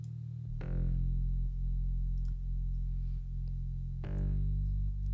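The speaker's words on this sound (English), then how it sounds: "Also we have simple plug bass," Simple plug bass synth from a remix, slightly modified, holding deep, sustained low notes with a gritty, effected tone, re-struck once midway and again near the end, with no voices.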